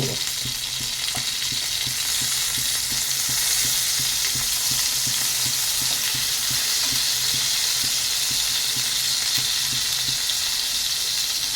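Mourola fish fry in a pan with a loud, dense, steady sizzle and a rapid crackle of spitting oil throughout.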